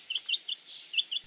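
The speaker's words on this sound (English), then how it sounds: "Chicks." Small chicks peep in a quick series of about six high, thin chirps, faint and evenly spaced over a quiet background, with no talking.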